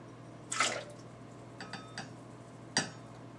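A little wine swirls and splashes inside a glass as it is rinsed, heard as two short, soft splashing bursts with faint trickles between them in a quiet room.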